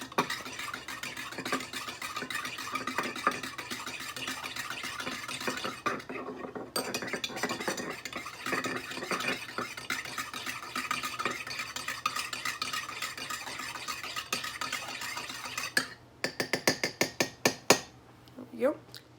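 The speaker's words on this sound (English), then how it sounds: "Mix it in." Spoon stirring breakfast food in a pot on a stove, a steady scraping and swishing that runs close and continuous, with a few sharp metallic taps against the rim near the end.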